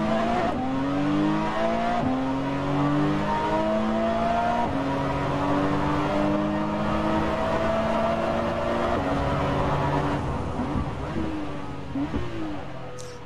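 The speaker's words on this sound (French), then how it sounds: "on fait un dernier tour avec cette Porsche" A Porsche 911 GT laps a racing circuit, its engine loud and steady as it climbs and drops through the gears, with faint tyre noise and the roar fading slightly near the end.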